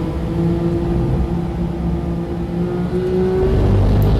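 Race car engine at steady part throttle during an onboard lap, a continuous loud drone with a sustained tone that swells near the end as the throttle is applied more firmly; no talking.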